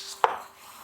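A single crisp chop of a knife through lettuce, cut with a stainless steel kitchen knife, one sharp close thunk with a brief crunchy tail, no talking.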